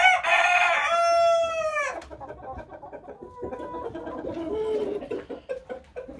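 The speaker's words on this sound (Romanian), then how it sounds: "Aici sus avem araucana, cocoș potârnichiu sălbatic, potârnichiu albastru, găini potârnichiu sălbatic" Araucana and partridge-coloured chickens, wild partridge and blue partridge roosters with hens, on a farm: a loud, close rooster crow in the first two seconds, followed by steady clucking and softer calls from the flock.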